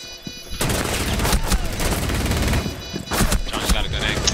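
Loud, dense gunfire from several weapons in Rainbow Six Siege, a continuous barrage of rapid shots with brief lulls, close and harsh throughout.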